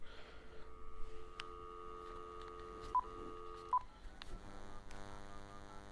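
A series of telephone keypad tones beeps at an uneven pace, each short and clear, with a quiet background hum.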